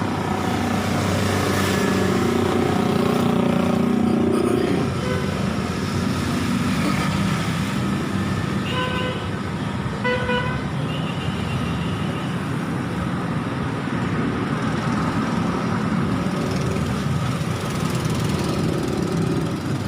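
Busy Pakistani street traffic of motorcycles, rickshaws and chingchi carts, a dense continuous rumble of engines with buzzing motors passing close and faint horn-like tones mixed in, along with some background voices.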